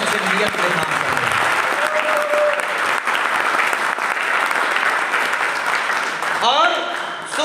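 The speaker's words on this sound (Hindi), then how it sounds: "सबसे पहले एक जोरदार तालियां बजाओ" Loud, dense audience applause fills a corporate company gathering for several seconds, steady throughout, with faint voices and a brief tonal sound near the end.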